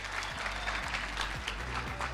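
A conference audience at a national ICT summit claps steadily in a dense, sustained round of applause, loud and continuous throughout.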